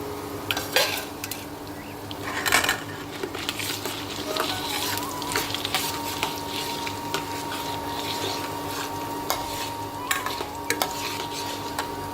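Lentils roast lightly in a hot pan while preparing a Tamil drumstick-leaf chutney, with a soft steady sizzle, occasional stirring scrapes and utensil clinks against the pan, fairly quiet and with no talking.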